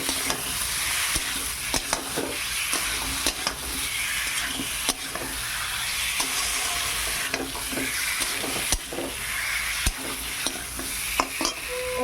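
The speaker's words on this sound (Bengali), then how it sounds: "মশলাটা খুব সুন্দর ভাজা হয়ে গেছে, এবার আলুটা দিয়ে দিলাম।" Pre-fried potatoes added to well-fried spices in a village kitchen pan, a loud continuous sizzle with frequent scraping and clinking of the stirring spoon, no talking.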